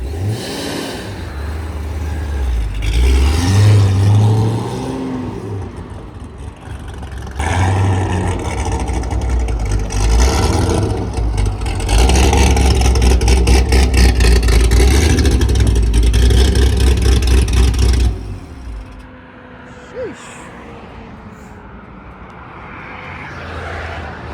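A 1000-horsepower Corvette engine roars and revs hard for a long stretch, loud and close with a jet-like whine, then drops off and idles down.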